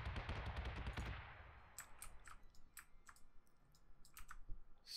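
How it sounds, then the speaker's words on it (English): Flak guns in Battlestar Galactica Deadlock open with a dense, rapid burst of heavy firing, then thin out into scattered sharp cracks and clicky pops at irregular intervals, moderately loud with no voices. "Having to listen to flak is going to be annoying"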